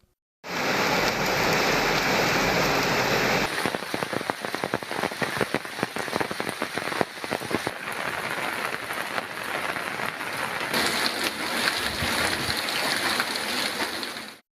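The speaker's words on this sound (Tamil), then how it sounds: "கன்னியாகுமரி மாவட்டத்தில் பரவலாக பெய்து வரும் கனமழை" Heavy monsoon rain pours in Kanyakumari district, a dense loud hiss of rain on surfaces that continues without a break, with dripping and splashing patter shifting in intensity.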